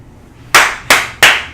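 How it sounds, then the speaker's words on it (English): Three sharp, loud hand claps spaced evenly about a third of a second apart, close to the microphone, with near silence before them. "I'll clap"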